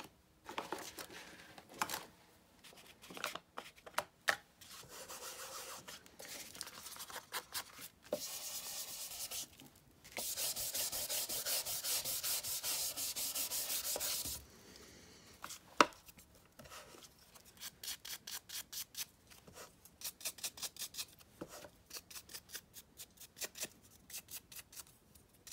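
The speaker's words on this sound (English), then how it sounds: "Let's do some inking." Dabbing and rubbing ink onto the edges of player piano roll paper while crafting an envelope, giving close, rhythmic scratchy strokes and taps with a steady longer rubbing stretch midway.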